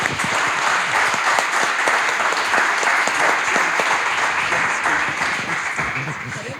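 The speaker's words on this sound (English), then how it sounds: "I hope you'll join me in giving them both a big round of applause" Loud, dense applause from a conference audience after a breakout speakers' session, sustained evenly and fading slightly toward the end.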